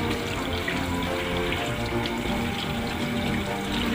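Tap water runs steadily and fairly loud into a sink while hands are washed, a continuous splashing rush with no voices over it.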